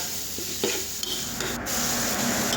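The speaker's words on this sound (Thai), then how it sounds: "จากนั้นเราก็มาผัดหมูนะครับ" Pork stir-fries in hot oil in a pan, making a continuous hiss of frying with a few spatula scrapes and knocks, close and moderately loud, without talk.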